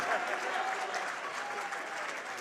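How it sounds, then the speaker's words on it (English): Steady clapping from a crowd at a live sports radio road show as a guest is welcomed, continuous and evenly dense throughout, with faint voices mixed beneath the applause. "And you might as well keep clapping because here's Bill Bates."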